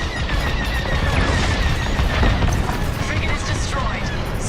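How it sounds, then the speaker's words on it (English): A frigate being destroyed in Star Wars Squadrons, a loud, sustained roar of rumbling explosions and rapid weapon fire with voices talking over the battle. "Frigate is destroyed."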